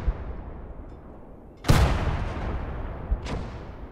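Two artillery guns fire in the World War II game Gates of Hell: a sharp, loud blast with a rumbling tail, then a smaller, more distant shot over a low background rumble.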